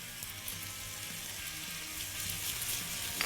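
Hot peppers, mixed colored peppers and garlic fry in a pan, giving a steady, hissing sizzle that stays soft and continuous throughout, close by, with no talking.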